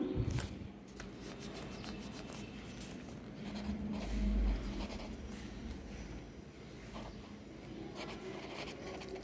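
A pen scratches across paper during a maths lesson, with close, continuous scribbling strokes that are soft and steady, heard alone without talk.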